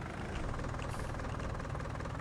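A tiny starter tractor idling in Farming Simulator 19, a continuous low, rumbling engine drone with steady knocking texture, close and unchanging.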